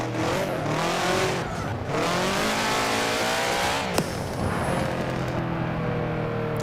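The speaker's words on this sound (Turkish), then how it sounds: "Araba var ya, çatara patara gidiyor ya." A Subaru WRX STi racing engine in Forza Horizon 4 roars continuously, revs rising and falling, with tire squeal and a bright, game-like sound.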